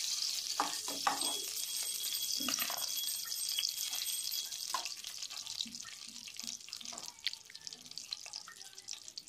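Ghee heating in a kadhai for stuffed capsicum, giving a steady close sizzle with scattered crackles and a few clinks from a spoon, no talking.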